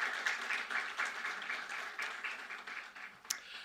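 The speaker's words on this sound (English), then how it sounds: "shall we do a big round of applause for her?" A round of applause from the audience at a distinguished alumni lecture event, fairly faint and somewhat distant, with a slightly uneven texture of many hands clapping together.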